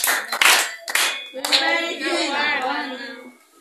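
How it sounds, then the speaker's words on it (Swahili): An audience claps in a church gathering. The loud bursts of applause come in uneven waves, then give way to a voice that is sung or drawn out. "Tumpigie makofi kwanza,"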